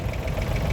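A 1958 McCormick International B250 vintage tractor at a steam rally parade, its diesel engine chugging in a steady, close, loud knocking rhythm for a brief moment.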